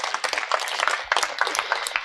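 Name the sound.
wedding guests applauding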